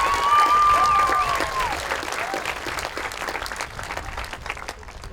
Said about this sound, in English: Could we have one more applause for Karma Bibawi and Juliana Raghu?